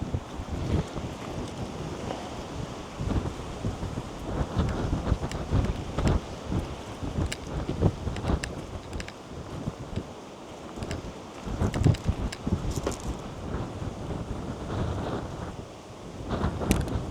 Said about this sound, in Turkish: acayip de bir rüzgar var